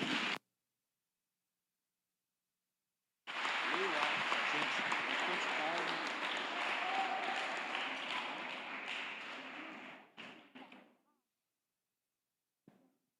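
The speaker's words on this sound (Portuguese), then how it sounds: "Aplauda o Senhor" A church congregation at a family service breaks into sustained applause after a short silence, a dense wash of clapping lasting several seconds before fading out, followed by a lone faint tap.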